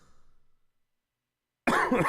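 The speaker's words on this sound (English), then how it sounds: "Sorry as I cough." A person coughs once, loud and close, after a stretch of near silence, with fainter throat sounds at the very start.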